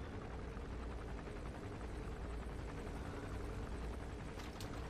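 A helicopter in the video game Metal Gear Solid 5: The Phantom Pain makes a steady, faint, distant rotor drone that never lets up, heard alone.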